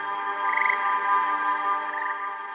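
Dart frogs in the Amazon rainforest give a steady, fairly loud trilling croak. It holds its pitch with slight pulsing and is heard alone with no voices.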